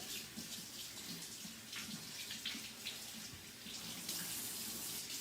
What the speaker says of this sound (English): You're just going to scrub the outside of it really good to make sure that you get all the dirt off of it.